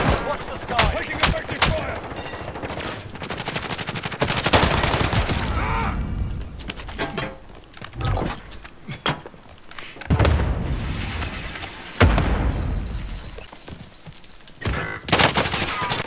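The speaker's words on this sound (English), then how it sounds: "There's a sniper over at the Tory's town sniping us." Video-game gunfire from a sniper firing on players near a town. Sharp, loud shots come in scattered bursts across the stretch, with booming reports and quieter gaps between them.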